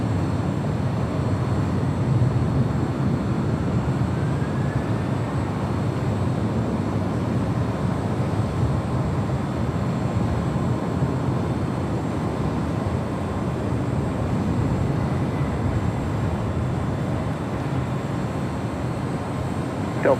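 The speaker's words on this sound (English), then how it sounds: "It's Flight 11 coming in from Sydney," An airliner on Flight 11 from Sydney, Australia approaches to land at LAX, heard as a steady, distant broadband jet roar that holds evenly throughout with no talking.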